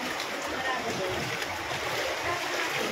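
Floodwater on Avenida Manila rushes and splashes in a steady, dense wash close by, with no break across the few seconds.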